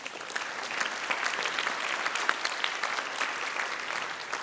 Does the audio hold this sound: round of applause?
yes